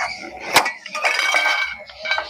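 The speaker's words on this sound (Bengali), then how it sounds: "এবার কৌটোর ঢাকাটা খুলে দেখবো কেমন হয়েছে।" Lid of a cooled tin container of steamed prawns with mango being opened, bright metallic clinks and scraping rattles in a short close burst, no voices.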